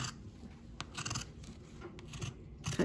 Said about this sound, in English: You're going to cut the t-shirt down the center of the zipper.